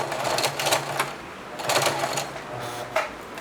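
A sewing machine runs a straight stitch in short rhythmic bursts of rapid needle clatter, pausing briefly between runs, close and clear with no talking.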